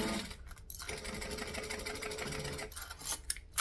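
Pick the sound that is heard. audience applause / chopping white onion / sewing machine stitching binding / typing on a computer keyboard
sewing machine stitching binding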